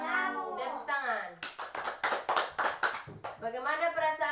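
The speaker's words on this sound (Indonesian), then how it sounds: "tepuk tangan." Children clap their hands in a steady run of sharp, bright claps in a classroom, with kids' voices singing or talking just before and after the claps.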